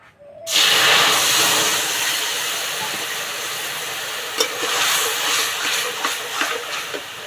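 Tamarind water poured into hot oil in a kadai bursts into a loud, broad hissing sizzle that settles into a steady crackle with occasional pops, alone without talk.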